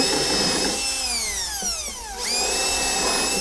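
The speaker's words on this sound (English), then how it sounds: "I'm gonna go around the front and screw through the riser into the block behind" A power drill drives a screw through a stair riser into a wooden squeaker block behind it on a straight flight staircase kit. The motor whines steadily, dips and slows as the screw bites, then spins back up, loud and close with no talk.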